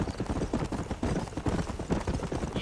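Horse hooves clip-clop in the Red Dead Redemption video game, a quick, even run of close hoof strikes on hard ground that continues steadily without pause.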